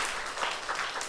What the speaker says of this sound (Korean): 우리 대한민국 최고의 성가대 우리 친구들에게 우리 감사의 박수 하겠습니다.